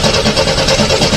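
A 1983 Jeep CJ7 plow vehicle's engine cranks on a cold start, a steady, loud, close mechanical churning with a rough rhythmic pulse throughout and no talk.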